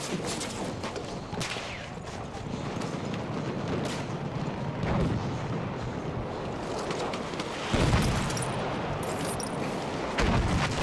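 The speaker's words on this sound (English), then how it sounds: "Mortars. Mortars again." Mortar fire in Battlefield 1 during the Brusilov offensive, muffled heavy booms landing at intervals amid a rumbling, windy battlefield din, with a couple of sharper louder impacts near the end.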